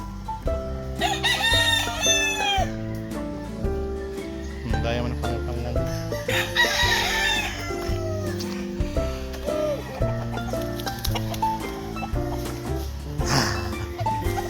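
A rooster crows repeatedly over steady background music, the calls rising and falling at a moderate distance amid other clucking fowl.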